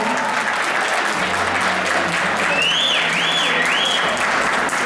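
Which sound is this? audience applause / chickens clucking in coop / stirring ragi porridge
audience applause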